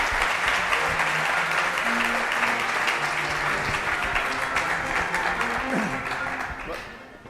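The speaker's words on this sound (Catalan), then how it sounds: "Un fort aplaudiment." An audience at a tenth-anniversary ceremony gives strong, sustained applause, dense and even clapping that fades toward the end, with faint voices underneath.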